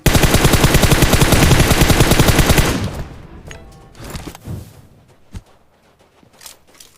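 Rapid automatic gunfire in PUBG Mobile, a loud continuous burst of dense shots for a few seconds, then scattered single shots, footsteps and small clatters trailing off.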